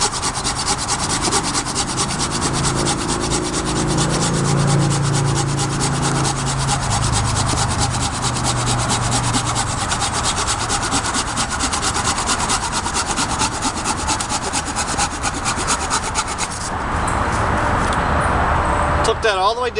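A Silky Pocket Boy folding saw cuts through a piece of poplar wood, rapid rhythmic rasping strokes close up for most of the stretch, with someone talking over the sawing.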